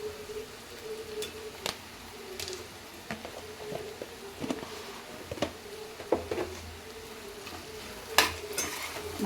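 Ginger garlic paste sizzles in a pan for prawn curry while a spoon stirs it, giving soft scraping strokes and scattered light taps over a low, steady frying hiss.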